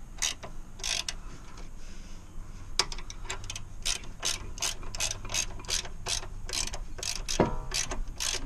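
A ratchet clicks in quick, uneven bursts of sharp ticks, close by, while turning a bolt on a 2004 Honda Pilot front lower control arm.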